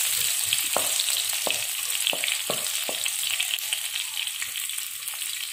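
Green chili frying in a pan for Travancore-style rava uppumavu, a steady close sizzle running throughout, punctuated by several sharp spatula scrapes and taps as it is stirred.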